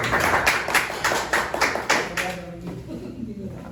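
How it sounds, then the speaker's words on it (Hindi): An audience at an associate meeting claps in a brisk burst of distinct, fairly close hand claps that thin out and fade toward the end, leaving quieter room noise. "ताली बजाइए इनके लिए।"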